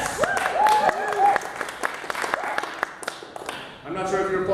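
An audience applauds a mention of a Fringe show about Clara Barton, a burst of many hands clapping that fades and then picks up again, while a presenter's voice speaks over the crowd.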